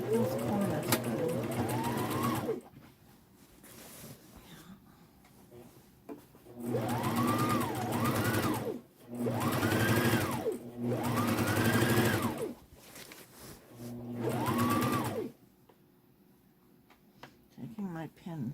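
A sewing machine stitches fabric in several bursts of a few seconds each, a close, rapid mechanical whir that rises in speed and then stops, with short pauses between runs and a person talking quietly in the background.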